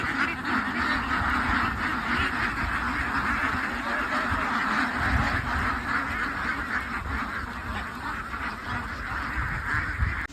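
A large flock of ducks walking along a road quacks continuously, a dense and fairly close chorus of overlapping calls that carries on for about ten seconds with no talk.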